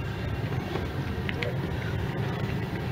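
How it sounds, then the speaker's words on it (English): Orion V 30-foot diesel transit bus, formerly a WMATA bus, arriving at a Metro station bus bay, heard as a steady low engine rumble with broadband road noise throughout. "We have an Orion 5 diesel 30 footer that was originally owned by"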